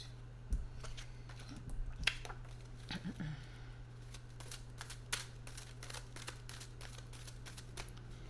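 Tarot cards are shuffled and drawn in a reading, with soft riffles and light flicking taps, scattered and close, over a steady low hum.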